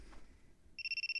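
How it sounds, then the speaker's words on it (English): A phone notification chimes in a rapid series of short, evenly spaced, high two-tone beeps, clear and fairly loud over a quiet room hum. "Somebody please tell me how to turn off these notifications"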